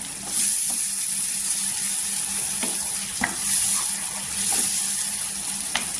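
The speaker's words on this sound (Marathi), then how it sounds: "आता टोमॅटोची प्युरी टाकल्यानंतर मसाला पूर्णपणे एकजीव करून घ्यायचं" Spiced masala stirred with tomato puree in hot oil for a spicy ridge gourd chutney, a steady loud sizzle with a spoon scraping the pan at a few points, no talking.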